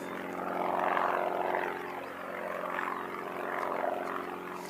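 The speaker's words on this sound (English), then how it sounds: "we've got the little private jet going out as well. There's a Bombardier Global 6000." A Bombardier Global 6000 private jet departs Christchurch Airport, its engine roar a moderate, distant, broad rumble that swells and eases across the few seconds.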